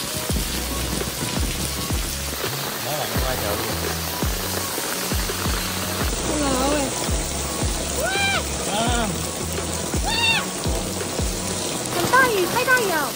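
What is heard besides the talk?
heavy rain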